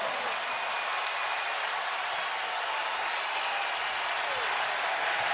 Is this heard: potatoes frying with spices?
no